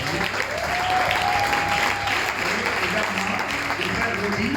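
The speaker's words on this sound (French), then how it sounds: "est-ce qu'on peut l'applaudir?" A church congregation at a Christian seminar applauds loudly and continuously, a thick, even wash of many hands clapping in a reverberant hall with no break.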